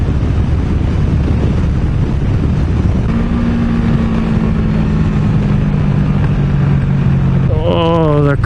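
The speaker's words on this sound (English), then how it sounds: "Oh, the crack, popple and burble of this pipe is so much better than the stock one." A motorcycle with an aftermarket exhaust pipe rumbles along a road in the Harz region, its engine drone steady and loud under heavy wind buffeting, with a pitch sweep toward the end.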